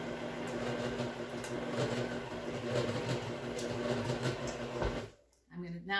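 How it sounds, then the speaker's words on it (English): Stand mixer beating cinnamon roll dough after the flour goes in, with a steady mechanical whir and hum that runs close and even, then cuts off near the end, followed by brief speech. "Now I'm going to let it beat for about a minute."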